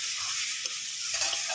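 Tomato and green chilli hitting a hot pan for a kohlrabi ghonto, giving a steady, loud, broadband sizzle with faint stirring scrapes throughout and no voices.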